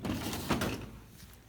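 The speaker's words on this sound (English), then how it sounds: "I'm trying to get my calculator out of the drawer." A drawer sliding open at home, a short scraping slide followed by a soft thunk, close and quiet, with no talking over it.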